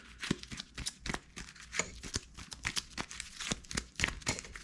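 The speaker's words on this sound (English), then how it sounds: "So we're going to take the cards. I'll shuffle them up." A deck of cards for a World War I air combat board game is shuffled by hand, giving a quick run of crisp riffling and flapping bursts, close and fairly quiet, with no talking.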